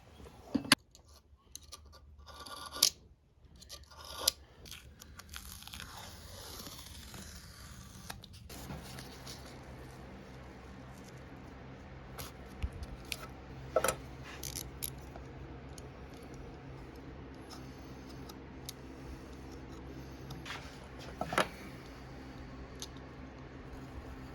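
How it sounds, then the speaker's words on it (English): A razor blade cutting tape on a workbench makes sharp scratchy clicks and rips in quick bursts early on, then softer faint scraping and handling noises, close by and with no talk. "I'll take a razor blade and actually cut the tape out"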